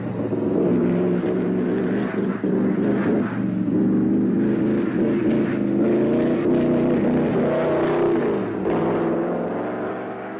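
A 1930s Mercedes W125 Silver Arrow racing car driven round the Nürburgring, a loud continuous engine roar with shifting harmonic tones that rise and fall through the laps, briefly dipping near the end.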